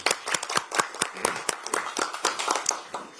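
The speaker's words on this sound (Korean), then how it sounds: "큰 박수를 부탁드리겠습니다." Enthusiastic applause from an audience at a Democratic Party of Korea recruitment ceremony, dense hand clapping with sharp individual claps rippling steadily throughout and no voices over it.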